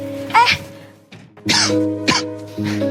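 Several rough coughs come in short bursts over a steady low hum, with brief pauses between them.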